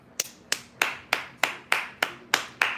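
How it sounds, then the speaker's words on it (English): Hands clapping in a steady rhythm, about nine sharp claps spaced roughly a third of a second apart, close and fairly loud with no talk. "Clap it up for JD Vance and Trump"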